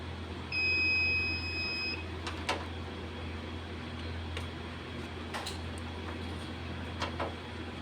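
A multimeter testing a water dispenser's thermal switch for continuity gives a single steady electronic beep lasting about a second and a half, followed by scattered light clicks and taps over a low background hum.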